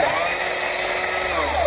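A chainsaw runs at a steady high whine while its top of chain bites into scrap wood during carving, loud and close without a break.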